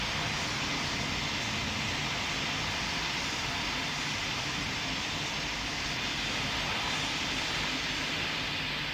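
Airliner landing in the video game Pilot Training Flight Simulator: a steady, loud broadband engine roar and rushing air hold evenly throughout, with no talking.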